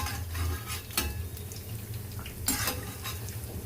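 Soft, quiet stirring of a curd snack mixture in a pan, with light scraping and a couple of faint metallic clinks against a low background hum.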